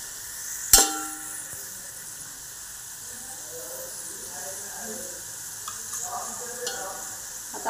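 Onion fries in a pan until lightly browned, with a soft steady sizzle and hiss broken by an early sharp clatter and a few quiet stirring scrapes, for a peas pulao.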